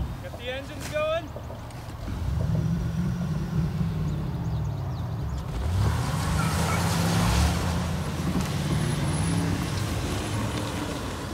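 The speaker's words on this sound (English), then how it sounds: "Get the engines going." Several demolition derby cars idle and rev together on the track, a steady loud low engine drone with rising surges, while people talk and cheer nearby.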